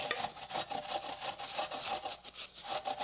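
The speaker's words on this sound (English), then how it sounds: "Why don't you grate some carrot?" Carrot rubbed against a grater for a cake makes a continuous rhythmic scraping, each stroke a rough rasp repeating several times a second, close and moderately quiet with no talking.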